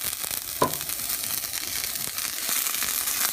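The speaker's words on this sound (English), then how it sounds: "while you're doing this, of course, the bottom is cooking" A tortilla pizza cooks in a hot pan with a steady, close sizzle and crackle, and a brief louder pop near the start. No one speaks.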